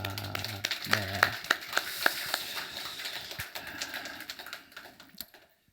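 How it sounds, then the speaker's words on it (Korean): A church congregation claps together during a Sunday service, starting under a sustained chord and a few distinct sharp taps, then thinning into scattered hand claps that fade out near the end. "우리 서로에게 격려의 박수 한번 합시다."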